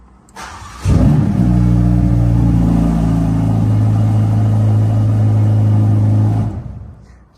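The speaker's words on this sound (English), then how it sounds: "That now allows us to press the ignition on and we can start the vehicle" A 2022 Ferrari Portofino M fires up with a short starter whir, then catches into a loud rev flare that settles into a steady, rich idle before cutting off near the end.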